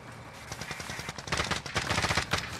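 Rapid bursts of automatic gunfire crackle from across the way in a multiplayer shooter game, dense overlapping shots growing louder and busier toward the end, with no talking.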